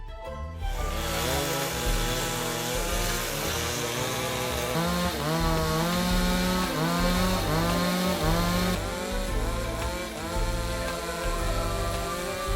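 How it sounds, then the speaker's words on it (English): A chainsaw cuts wood close by where Phinisi boats are built on a beach in Bira, Sulawesi, its engine droning loudly with repeated bogging and revving as the blade bites; no talk. "The weapon of choice for these craftsmen is the chainsaw"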